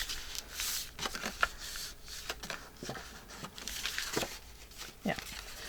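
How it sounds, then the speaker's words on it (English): Sheets of 12x12 paper being folded and creased by hand, with soft crinkling and shuffling rustles in short bursts up close, under faint background noise. "let's fold it back this way"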